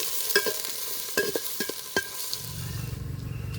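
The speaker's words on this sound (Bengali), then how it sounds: "এবার কুচনো পেঁয়াজ দিয়ে দেবো।" Chopped onions hit hot mustard oil in a pot: a few sharp scraping clicks of a spoon first, then a close, steady crackling sizzle builds and continues, no voices.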